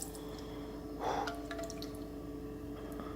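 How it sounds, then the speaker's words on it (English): Eggs poured into a pan of melted butter give a short liquid pour and sizzle, a brief soft burst over steady low kitchen hum. "so I'm gonna pour in the eggs now."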